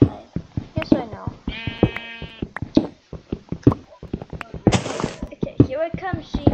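Repeated bleats from a crowd of sheep in Eaglercraft, a few distinct calls rising over a busy patter of game footsteps and clicks, close and fairly loud.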